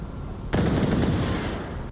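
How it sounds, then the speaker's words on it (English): A short burst of rapid gunfire from a competitive online shooter match, sharp repeated shots starting abruptly and sounding close and loud, with no talk over them. "Gunshots from Zucchini."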